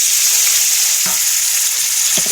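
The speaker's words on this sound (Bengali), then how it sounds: "তেলটা গরম হয়ে গেছে, টমেটোগুলো" Tomatoes fry in hot oil in a wok, giving a loud, constant crackling sizzle with a couple of soft stirring knocks, no voices present.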